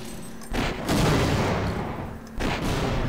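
Gunfire in the video game Half-Life Source: two loud, broadband blasts, the first a sustained rumbling burst and the second a shorter shot about two seconds later, with no talking.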